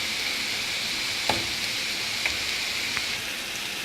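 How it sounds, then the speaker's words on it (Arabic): Onion and chicken liver sautéing in oil in a pan, a steady close sizzle throughout with a few soft clicks of stirring, no voices. "اذا كما كتشوفوا كنشحروا البصله ديالنا هي الاولى، ثم عاد كنضيفوا الكبده ديالنا"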